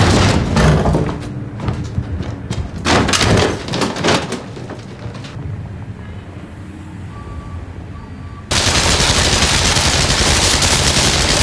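Gunshots fired into a floor in a Doctor Who scene crack in rapid bursts over the first few seconds, followed by a dull rumble and then a loud, sustained wash of noise.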